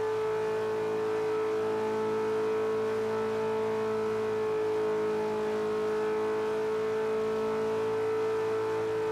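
A Land Rover's engine drones steadily at high revs during a Forza Horizon 3 multiplayer race, a sustained, even tone with no pauses, running alone without talk.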